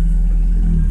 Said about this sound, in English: that was a car passing by.